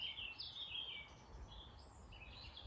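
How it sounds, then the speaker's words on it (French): Birds singing outdoors beyond a yin yoga class: faint, scattered high chirps and short trills drift in from a distance over a low steady background hum, with no talking. "Écoutez le chant des oiseaux."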